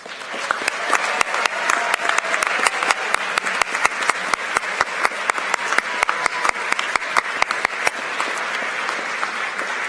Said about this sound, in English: State winners, please rise to receive our applause.